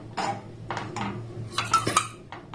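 Milk mixture stirred in a pan with a spoon, scraping and clinking of metal against the pan in a few uneven strokes, close and moderately loud, no speech.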